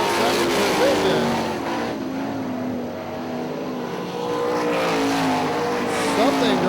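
Sprint cars roar around the Hartford Speedway dirt track, a loud continuous engine drone rising and falling as they race down the back straight, with a commentator talking over the noise.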